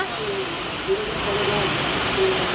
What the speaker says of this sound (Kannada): ಭಾರಿ ಮಳೆ ಆಗ್ತೈತಿ ಬಿಡ್ರಿ.